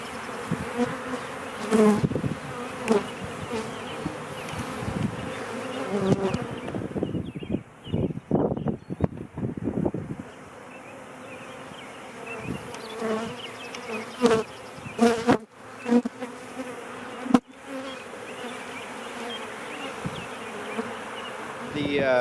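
Dense buzzing of many agitated honeybees around an opened hive fills the scene, rising and falling as they swirl close by, with occasional rustles and bumps.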